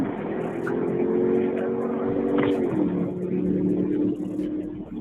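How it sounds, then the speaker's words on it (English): Loud car engine heard from inside or near the vehicle during a roadside confrontation, a steady droning rumble that dips in pitch midway as it eases off, with faint voices around it. "Boy, that engine loud, boy. That thing got some straight horsepower on it."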